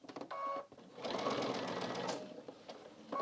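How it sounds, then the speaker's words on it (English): A sewing machine stitches binding onto a quilt edge with scalloped edging, a close, fast mechanical whirring burst that runs for about a second and a half, with brief stops and starts around it. "And now I'm just going to continue sewing, making sure I don't catch any of that scallop edging in,"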